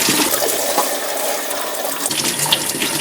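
Tap water pours steadily into a sink while fresh green garlic leaves are rinsed clean of soil, a constant close hiss and splash with small bursts of dripping and no talking.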